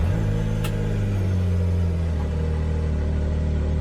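A Maverick R engine runs steadily while the vehicle drives, giving a constant low rumble and drone at a moderate, even level with no voices over it.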